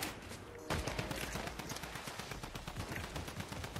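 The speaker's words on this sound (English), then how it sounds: "someone's shooting at me!" Rapid gunfire in a Fortnite match, a fast run of sharp repeated shots that starts abruptly and carries on close and steady to the end.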